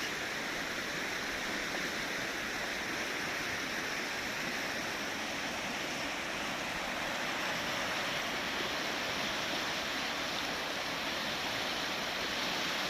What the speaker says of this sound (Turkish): Bu suyun bu güzel şırıltı sesinde duymayacağız